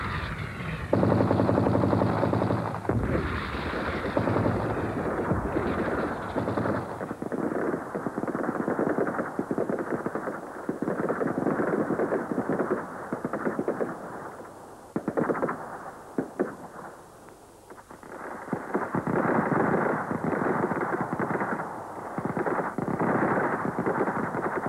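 Gunfire crackles on a military firing range in dense, continuous rapid volleys over a rumbling background, loud and sustained throughout with brief dips, no talking.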